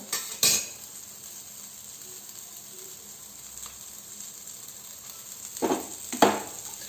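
Rajma tikki shallow frying in oil gives a steady soft sizzle, with a few louder clatters from a pan or utensil near the start and again toward the end.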